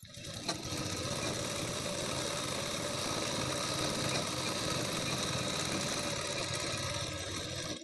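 Sewing machine stitching a blouse belt, a fast continuous whirring hum of the needle running steadily up close, fairly quiet with a small tap near the start and no talking.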